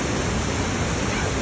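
Itanda Falls rapids on the Nile in Uganda roar as a steady, dense rush of whitewater, loud and unbroken with no voices.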